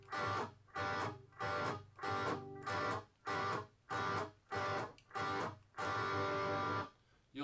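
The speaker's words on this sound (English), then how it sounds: "Now we're going to look at something called a shuffle rhythm." Blues shuffle rhythm strummed on guitar with palm muting, a clean, fairly quiet pattern of short chord bursts in a steady swinging pulse, about ten strokes separated by muted gaps, ending on a held chord.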